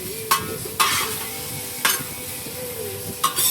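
Sausage frying in a Matador pan on a Recteq grill heated to about 350, a steady sizzle broken by four sharp scraping stirs of a utensil against the pan.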